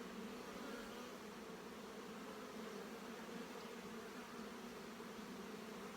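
Honeybees hum from an open hive during an inspection, a faint, steady, continuous drone with no voices over it.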